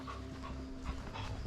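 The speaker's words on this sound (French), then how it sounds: "C'est le chien du château." Close, quiet panting from the château's dog, a rapid rhythmic huffing that carries on through the whole stretch with no voices over it.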